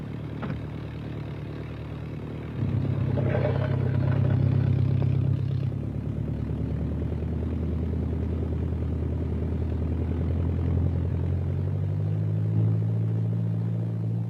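A DHC-1 Chipmunk's piston engine drones steadily while the trainer taxis out, a low harmonic rumble that grows louder a few seconds in and holds there with slight shifts in pitch.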